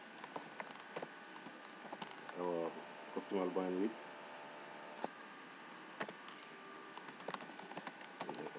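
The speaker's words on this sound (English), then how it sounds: "typing the code" Computer keyboard keys tapped in scattered clicks while code is typed, someone talking over the faint clatter throughout.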